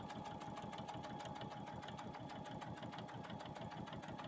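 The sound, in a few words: sewing machine stitching a strip table runner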